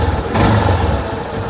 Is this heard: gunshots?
no